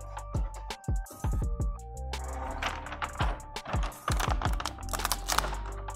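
WorkHorse vinyl plotter making a test cut with its blade, a run of sharp clicks, taps and short motor whirs in quick irregular bursts, close and fairly loud, with no talking.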